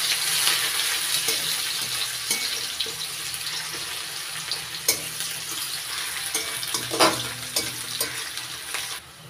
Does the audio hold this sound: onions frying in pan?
yes